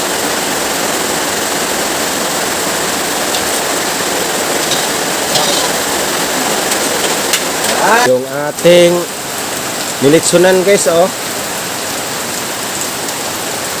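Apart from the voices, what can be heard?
heavy rain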